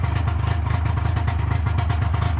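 A snowmobile engine idles low, a steady rapid put-put pulse with rhythmic clatter, close and fairly loud with no talking.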